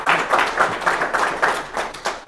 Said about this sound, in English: Go ahead and clap on that one